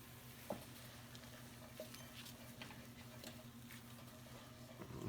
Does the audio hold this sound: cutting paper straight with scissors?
no